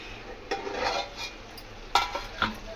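A lid comes off a pan of simmering Malvani chicken tikka masala with a few sharp metallic clinks and scrapes over a soft background sizzle, close and fairly quiet, no voices.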